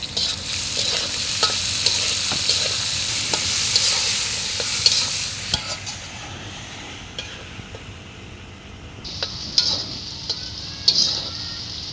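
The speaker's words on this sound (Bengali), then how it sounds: "এখন আমি পেঁয়াজ কুচি দিয়ে দিব, সাথে দিয়ে দিব ক্যাপসিকাম। কিছুক্ষণ ভেজে নেব।" Potatoes, chopped onion and capsicum fry in a pan for quick noodles, a strong steady sizzle that eases midway, with occasional spatula scrapes and stirring clatter up close.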